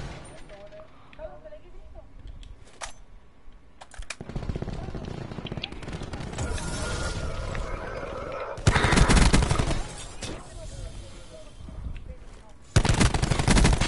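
Gunfire in a tactical team shooter match, with bursts of rapid automatic fire and sharp shots, some distant and some loud and close, while players talk over it.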